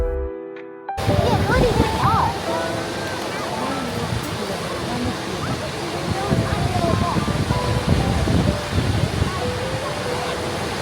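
Rushing water released from the dam upstream of Huka Falls in New Zealand, a steady broad roar with wind buffeting the microphone and people talking nearby.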